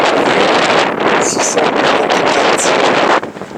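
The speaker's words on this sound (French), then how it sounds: "malgré un fort vent glacial" Strong icy wind roars and buffets the microphone high in the Queyras mountains at about 2,644 metres, loud and continuous with gusty surges.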